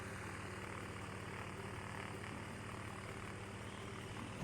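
Light aircraft engine in the VR flight game Ultrawings, a steady continuous propeller drone with a low buzzing hum that holds level throughout, no voices over it.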